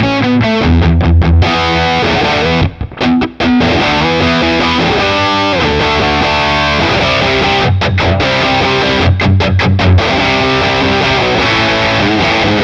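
Electric guitar played through a Boss Katana Gen3 amp with warm overdrive, tape echo and extra gain: loud distorted chords and riffs ringing out with short pauses between phrases, no voices.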